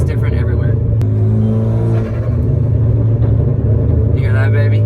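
Genesis Coupe fitted with an aftermarket exhaust, rumbling and revving up close in a steady, loud drone with a few rising swells.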